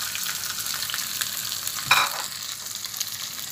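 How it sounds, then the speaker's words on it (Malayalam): Washed dried anchovies fry in hot oil on a low flame, giving a steady close sizzle throughout with one brief louder spatter near the middle and no voices. "ഉണക്ക കൊഴുവ ഒന്ന് ചെറുതായി കഴുകിയത് കൊണ്ട് ചെറുതായിട്ട് സിമ്മിലിട്ടിട്ട് വേണം അത് നമുക്ക് വറുത്തെടുക്കാൻ"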